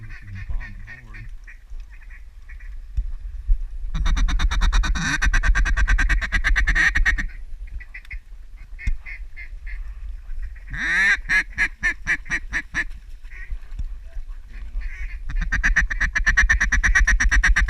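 Ducks quack and honk in loud repeated bursts over a flooded corn field during a duck hunt, with quieter gaps between calling bouts and clustered, overlapping calls from several birds.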